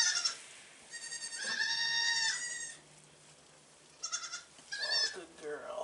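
A pregnant Nigerian Dwarf doe in a kidding pen bleats loudly and close by, with one long wavering call followed by two shorter bleats after a pause, alongside a person's voice.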